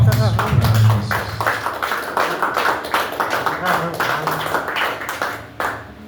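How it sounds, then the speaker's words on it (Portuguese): Congregation clapping hands together during an evangelical church service, a steady rhythmic patter of claps running throughout while voices sing and talk over it. "as palmas para Jesus."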